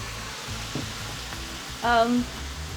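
Bolognese sauce sizzles and fries in a saucepan with a steady, close hiss throughout, and a brief voice-like sound rises near the end.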